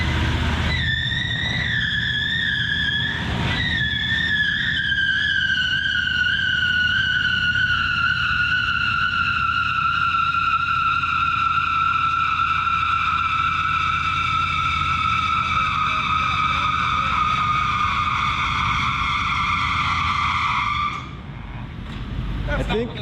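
A 1994 Lincoln Town Car does a burnout, its rear tire giving one long, loud, steady squeal for about twenty seconds over the rumble of the engine, then cutting off near the end.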